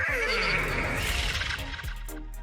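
A horse in the Destiny 2 video game lets out a loud, close whinny that starts high and trembles downward over about two seconds, fading into a snorting tail against a low steady hum.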